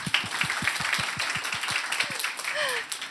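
Audience clapping for a film director at a BIFAN film festival class session: a steady run of distinct, evenly spaced claps from a smallish crowd, with faint voices and other room sounds mixed in near the end.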